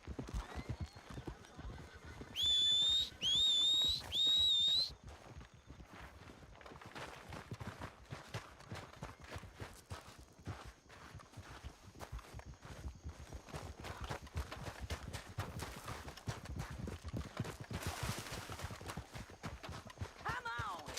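Hooves clip-clop steadily and a horse whinnies in a video game, with people talking over the game sounds and a brief burst of high whistling tones early on.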